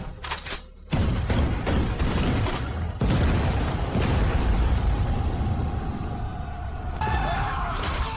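A volley of rifle fire from soldiers standing in ranks: a cluster of loud, sharp shots at the start, then a dense, sustained roar of gunfire that carries on to the end.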